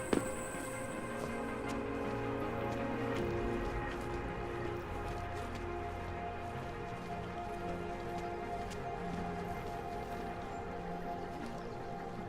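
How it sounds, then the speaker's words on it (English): Steady, even rain hiss in the video game Deus Ex: Mankind Divided fills the scene, a constant wash of falling water with faint ambient tones underneath and no talking. "Starts raining."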